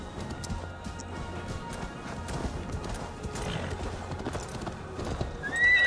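A horse gallops with steady clip-clop hoof beats and occasional whinnies in Assassin's Creed Valhalla, amid ambient game sound, ending with a brief louder crash.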